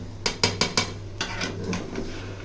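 A spoon scrapes and clanks against a pot while chicken biryani is stirred, several quick metallic knocks followed by softer scraping, close and clear, with no voices.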